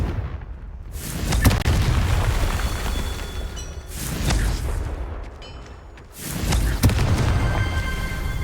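Confringo fire spells blast repeatedly in Hogwarts Legacy: three loud booming explosions, each swelling into a long rolling roar with crackling tails, spaced a few seconds apart and heard without any talking.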